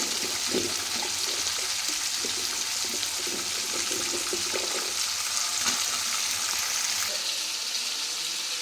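Carrot pieces fry in hot oil in a pan for a raw coconut and tomato chutney, giving a loud, steady, close sizzle that continues without a break.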